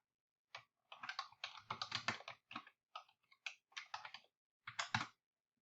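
Login details are tapped out on a computer keyboard in quick, uneven bursts of crisp key clicks with short pauses between them, close and quiet in an otherwise silent room.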